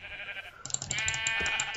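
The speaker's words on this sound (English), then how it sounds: "Okay, I hear you, sheep." A sheep bleats in a wavering, drawn-out call, fairly close, following a brief quieter bleat, in the video game Minecraft.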